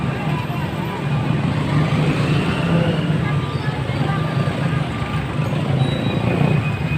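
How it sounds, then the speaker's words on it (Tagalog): Busy road traffic on Llano Road in Caloocan at rush hour, with many vehicles pulling out together and a constant low rumble of engines, moderately loud, while someone talks over it. "Ang lalaki na ng mga sasakyan. Naglalabasan na ngayon."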